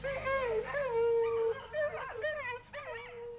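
Several dogs howling and whimpering together in overlapping, wavering cries that rise and fall, fairly close and continuous for a few seconds.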